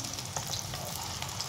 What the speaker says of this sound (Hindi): ऑयल हो गया हमारा गरम और हम इसको कर देंगे फ्राई